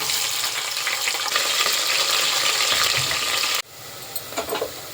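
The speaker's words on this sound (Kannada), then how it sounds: "ನೋಡಿ ಚೆನ್ನಾಗಿ ಆನಿಯನ್ ಫ್ರೈ ಆಗಿದೆ" Onions frying in ghee in a pan, a dense continuous sizzle with stirring close by that drops off abruptly near the end, leaving only faint clinks.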